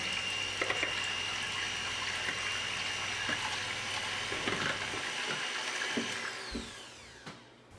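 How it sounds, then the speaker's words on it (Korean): Eggs and yolks are beaten for brownie batter with a hand mixer or whisk, making a steady, continuous mechanical whirring and rattling that runs nearly throughout and then winds down in the final second. "핸드믹서나 거품기를 이용해서 잘 풀어주시고요."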